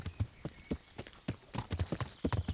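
Horse hooves clip-clop in a steady, fairly close rhythm while riding in the medieval video game Kingdom Come: Deliverance. The beats come clearly and quicken slightly toward the end, with no talking over them.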